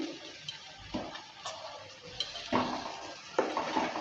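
Veg chowmein with cucumber and chopped coriander being tossed and stirred in a pan, several soft clatters and scrapes of utensil on metal at irregular intervals, quiet and close, no talking.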